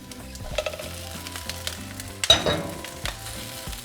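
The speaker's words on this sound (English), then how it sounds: "after 5 minutes, we're going to throw in our meat." Shredded beef sizzling and frying steadily in a hot pan for crispy tacos, with a burst of louder sizzle about two-thirds through as the meat is stirred or added, close and continuous with occasional scraping.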